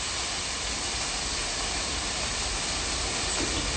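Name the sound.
food sizzling in a hot pan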